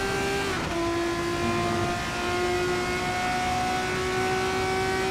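A race car engine in a racing video game played on a force-feedback steering wheel holds a steady, high, buzzing drone throughout, with no voices.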